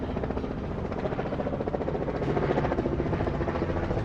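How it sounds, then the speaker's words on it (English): A tour helicopter's steady rotor thudding over the Toronto harbourfront, fairly close and continuous, growing slightly louder toward the end. "Here comes a helicopter."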